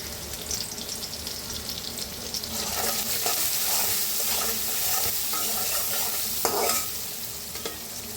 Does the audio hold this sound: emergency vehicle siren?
no